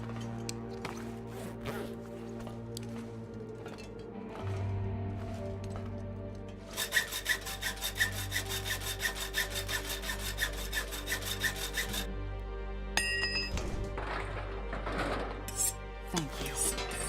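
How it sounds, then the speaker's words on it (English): Hacksaw cutting in the survival video game The Long Dark, rapid rhythmic rasping strokes over a steady hum of game sounds, with clinks and scrapes before and after the sawing. "So I got all the hacksaw power I need to finish this job."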